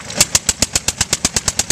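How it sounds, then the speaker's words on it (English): Antique car engine at a museum spring auto show, its ignition grounded out so it fires at one-eighth rate: a loud, evenly spaced series of about a dozen sharp pops, alone. "We're grounding out the electrical system so the engine only fires at 1/8 its full rate."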